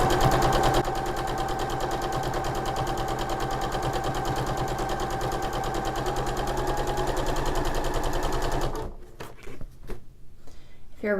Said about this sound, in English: so we're going to sew